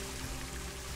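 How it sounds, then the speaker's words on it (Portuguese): Rain in the zoo-building video game Planet Zoo, a faint, even hiss of falling water with a low steady hum beneath, continuous and without voices. "Essa chuva."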